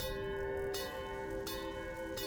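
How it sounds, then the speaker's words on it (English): Church bells ring inside the video game Witchfire, faint distant tolls repeating every second or so over a sustained tonal ambient hum. "I can hear the bells, but I can't see them."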